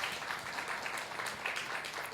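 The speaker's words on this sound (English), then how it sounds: "Hold your applause, hold your applause." Audience applause at a live arts talk show, steady and dense throughout without any single claps standing out, sustained at a moderate level with no talk over it.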